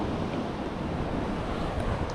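Incoming sea tide washing onto the shore on the Holderness coast at Withernsea, a steady broadband rush of surf mixed with wind buffeting the microphone, no voices.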